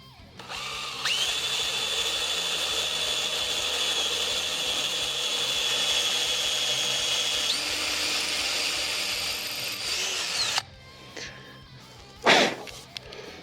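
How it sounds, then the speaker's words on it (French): A power drill bores the last hole in a StratoVolox Stratocaster-style kit guitar body before the bridge goes on. It runs as one long, steady whine of about ten seconds with a pitch step partway through, then stops, leaving a couple of brief knocks. "il nous reste un dernier perçage"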